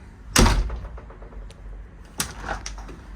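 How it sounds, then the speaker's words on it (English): A freshly refitted door is swung and shut twice, one heavy thud early and a second lighter knock later, each followed by small rattles and clicks of the latch, close and clear with no talking. "This door fits really nicely now, doesn't it? Look how that works."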